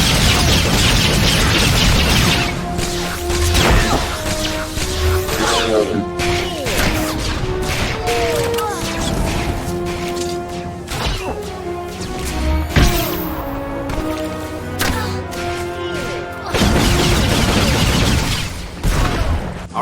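Blaster fire in a Star Wars: The Old Republic bounty hunter battle, a dense run of sharp cracks and crashes with sci-fi tones over a constant loud backdrop lasting the whole stretch.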